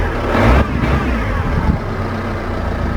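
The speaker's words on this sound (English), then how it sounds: "I love that grumble of a turbo diesel engine" A turbo diesel car engine idles with a low, steady grumble and a slight rev early on, close by with no talking.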